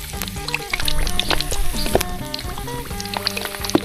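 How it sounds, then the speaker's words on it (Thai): Crispy pork leg lowered skin side down into hot oil, frying with a loud, close, continuous sizzle and dense popping crackles. "การทอดเราจะใช้ด้านหนังลงเด้อเบา ๆค่อยๆเอาลงเบาๆครับ"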